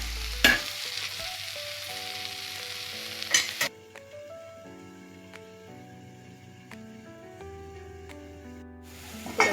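Cabbage and grated coconut sizzle and hiss in a pan for the first few seconds as they are stirred, with brief louder bursts, then the frying fades beneath steady tonal music.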